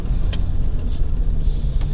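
A 2019 UAZ Patriot SUV is driven on the road, with a steady, low engine and road rumble heard from inside the cabin.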